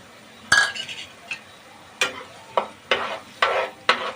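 Green chillies fry in a pan for mutton kheema. A quiet sizzle is broken by a series of sharp spoon-against-pan stirring scrapes and clinks, roughly six strokes in a loose rhythm.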